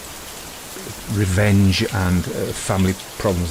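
Steady rain patters softly behind a voice narrating horror stories, a constant hiss that stays under the talk throughout.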